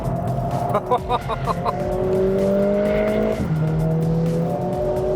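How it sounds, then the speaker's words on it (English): A 2019 Mercedes-AMG CLA 45 S drifts, its tires squealing loudly in long, wavering howls over a revving engine, the squeal shifting pitch as the slide continues, close and prominent. "the CLA 45 is quite partial to a little bit of drifting"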